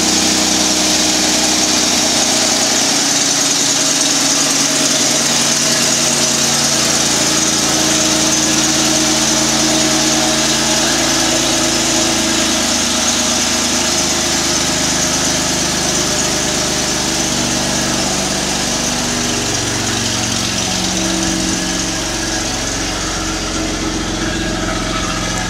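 A 2011 Jeep Wrangler Sahara JKU with a turbo installed idles through its factory exhaust, a steady close rumble with a faint hiss that holds throughout at high volume.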